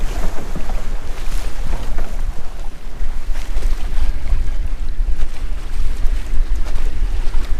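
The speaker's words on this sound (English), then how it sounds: "And here comes the rain." Wind and rain hit a boat pushed against the dock, a loud, constant rushing roar with gusty buffeting and spattering, close to the microphone and without talk.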